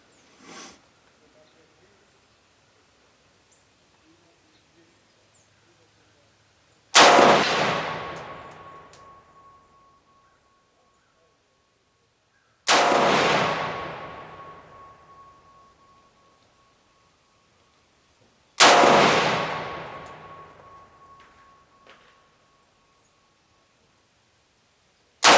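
Three loud single shots from a Southern Tactical Cetme C classic rifle firing 150-grain bullet loads, each a sharp crack with a long ringing decay, spaced about six seconds apart after a quiet stretch.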